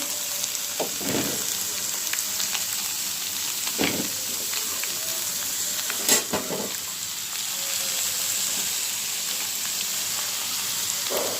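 Beans and potatoes fry in a pan, giving a steady close sizzle with a few sharp spatter pops and scraping stirs spread through the clip.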